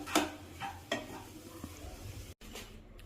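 Scraping and stirring of a thick coconut and date-jaggery naru mixture in a pan, a few sharp spoon scrapes against the metal over a faint sizzle, close and fairly quiet, with no talking.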